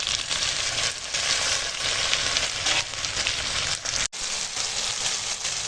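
Tomato and ginger-garlic paste frying with boiled potato and onion over a wood-fired clay stove, a dense, steady close sizzle with soft stirring sounds and one brief dropout, no talking.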